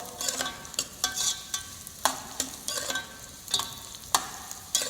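Chopped vegetables for a tomato sauce fry in a pan while being stirred, giving a steady sizzle broken by regular scraping strokes of a utensil, close up with no talking.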